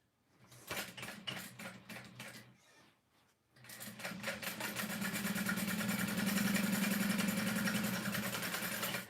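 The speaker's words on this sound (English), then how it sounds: "And then as I'm sewing these corners," An electric sewing machine stitches the corners of a fabric holiday gift bag, starting with a few stuttering bursts, pausing briefly, then running steadily and loudly with a fast mechanical rhythm close by.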